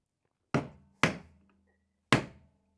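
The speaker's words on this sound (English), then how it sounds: "Screwdriver and hammer." A hammer strikes a screwdriver three times while prying open an RC motor casing, sharp close metallic taps, two in quick succession and a third after a short pause, each decaying quickly.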